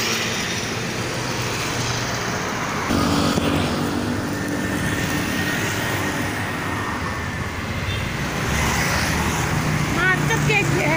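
Heavy congested traffic on the Pantura route in Karawang, with buses, cars and motorcycles rumbling and droning close by, engines and horns mixing, while people talk over the noise.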